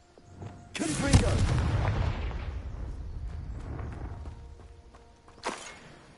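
Confringo blasting spell in Hogwarts Legacy, a sudden loud explosive boom that rumbles and slowly fades, followed by a sharper second burst near the end.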